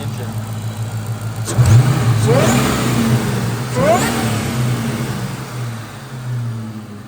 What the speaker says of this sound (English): You got that supercharged whine. It's just an awesome engine.